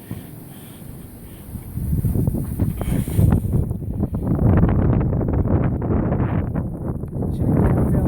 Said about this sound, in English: Wind gusts have picked up